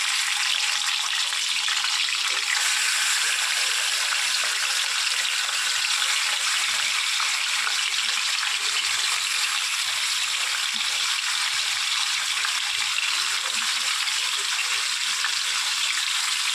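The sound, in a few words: chicken pieces frying in a pan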